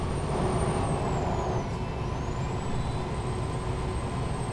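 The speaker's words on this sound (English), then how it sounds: "I love the American trucks. I love how they sound as well." An American truck passes close by with a loud, continuous engine rumble and a high whining tone that dips and recovers, with air brakes mentioned though no distinct hiss stands out.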